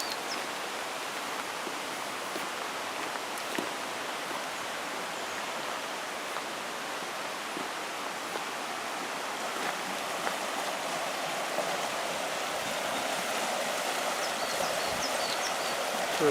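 A river rushes steadily beneath an old Cornish tramway path, a broad, even wash of flowing water heard close and continuous throughout with no talking.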